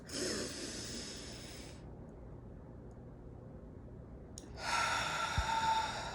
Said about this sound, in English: just taking deep breaths